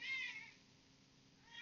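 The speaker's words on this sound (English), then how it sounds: "Got the cat meowing in the background." A persistent cat meows in the background indoors, one drawn-out meow fading away and another just starting at the end, faint and somewhat distant.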